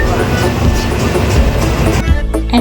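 A train from CSMT to Goa runs along the rails, a loud, close rumble with rhythmic clatter, shifting to a deeper, steadier roll toward the end.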